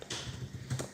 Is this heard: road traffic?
no